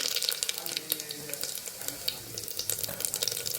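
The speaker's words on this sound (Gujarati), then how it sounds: "હવે આપણે પડી રાઈ નાખીશું, થોડી જીરું એડ કરીશું" Mustard seeds and cumin sizzling in hot oil and ghee, a quiet, steady crackle with dense small pops, continuous and close, no talk.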